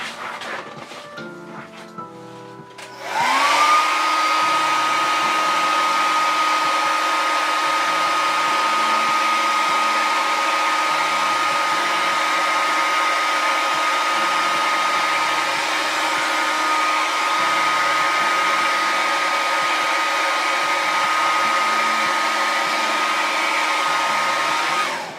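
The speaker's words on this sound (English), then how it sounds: "Let me hit it with the blow dryer real quick." A blow dryer switches on after a few seconds and runs loud and steady for the rest of the clip, drying paint on a Jessica Rabbit figure base with a constant whining drone.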